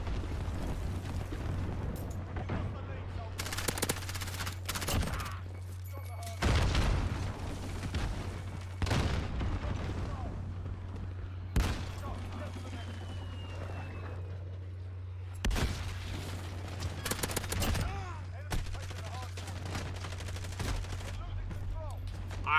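Gunfire from Call of Duty Mobile: repeated loud bursts of shots and rapid automatic fire spread across the stretch, broken by short pauses, over a constant low hum with occasional faint talking.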